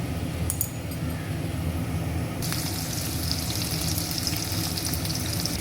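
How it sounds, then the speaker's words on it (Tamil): Fenugreek and cumin seeds tempering in hot oil for a Tamil fish kuzhambu, a steady close crackling sizzle that brightens and grows busier partway through, with no talking. "இப்போ குழம்பு தாளிச்சிட்ருக்கேன்"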